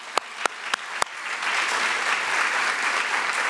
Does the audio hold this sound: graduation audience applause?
yes